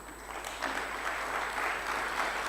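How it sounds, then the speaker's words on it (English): A conference audience at a public health plenary session breaks into applause, a steady, even wash of clapping that swells slightly and holds, heard from a distance with a faint background hum. "deserve a round of applause from all of you"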